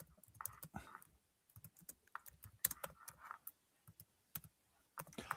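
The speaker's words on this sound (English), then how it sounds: "Cara, I was typing" Rapid, uneven clicking of fingers typing on a computer keyboard, close and fairly quiet, with short bursts and brief pauses between keystrokes and no voices.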